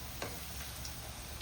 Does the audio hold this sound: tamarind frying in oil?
yes